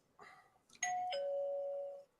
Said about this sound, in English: Who just got their doorbell ring?